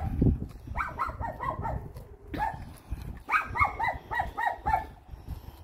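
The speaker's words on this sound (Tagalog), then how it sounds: "May aso dyan." A dog behind a fence barks in two quick bursts of several yaps each, fairly close, with a short pause between the runs.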